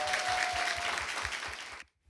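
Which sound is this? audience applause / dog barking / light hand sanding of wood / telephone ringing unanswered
audience applause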